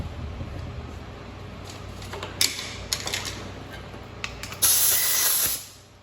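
A spray of water hisses across a surface freshly sanded with 3000-grit Trizact on a soft interface pad, quiet at first with scattered ticks and spatters, then a louder sustained spray burst near the end before it cuts off.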